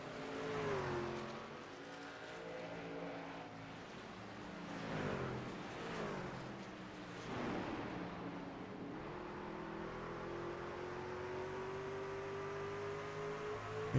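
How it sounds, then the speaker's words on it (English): Racing trucks in a truck series race at Richmond rev and shift through several rising and falling engine sweeps, then settle into a steady, sustained drone, heard fairly faint throughout. "These trucks don't sound that loud."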